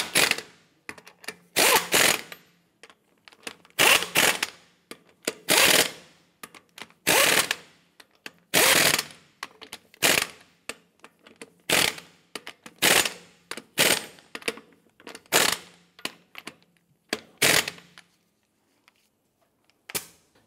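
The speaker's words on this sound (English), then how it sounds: "Once you have all the lug nuts on, go ahead and snug them down." A ratchet snugging down rear wheel lug nuts on a 2015-2020 Cadillac Escalade: repeated bursts of rapid clicking, close and loud, separated by short pauses across the whole stretch.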